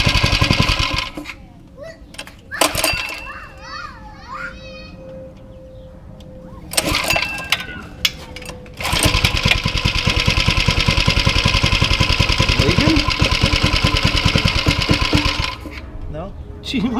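A rusty go-kart engine sputters into life and then settles into a loud, steady, rapidly pulsing idle that carries on to the end. Voices and clatter come first, before it catches.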